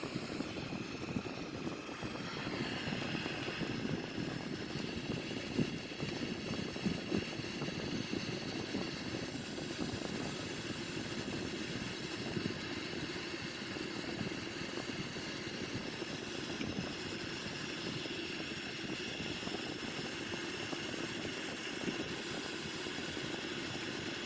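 Steady, continuous roar of a Sukhoi Su-30 jet engine under thrust in a flight simulator game, an even broadband rumble with a faint whine on top, constant loudness throughout and no talking.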